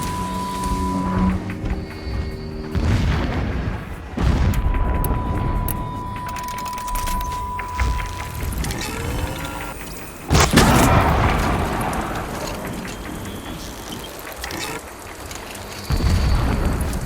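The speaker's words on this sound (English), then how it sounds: "Explosions in the distance." Rumbling distant explosions in Horizon Zero Dawn, a series of deep booming blasts rolling across the landscape, with a heavy surge midway and another near the end amid continuous low rumble.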